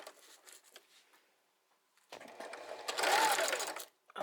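A sewing machine runs in short stitching bursts through burlap. A couple of quick runs are followed by a pause, then a louder, sustained whirring run, all close by.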